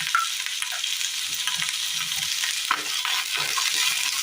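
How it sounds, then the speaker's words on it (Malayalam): Garlic, chopped tomato and chopped rose apple fry in a pan with a steady, close sizzle that holds at an even level throughout, with no voices. "വെളുത്തുള്ളി 4 എണ്ണവും തക്കാളി അരിഞ്ഞെടുത്തതും ചാമ്പയ്ക്ക അരിഞ്ഞെടുത്തതും കൂടി ഇട്ട് കൊടുക്കാം."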